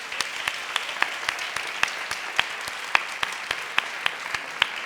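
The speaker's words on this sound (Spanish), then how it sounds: "otro aplauso fuerte, por favor." Audience applauding at a charity gala, steady dense clapping with sharp individual claps standing out, sustained and fairly even throughout.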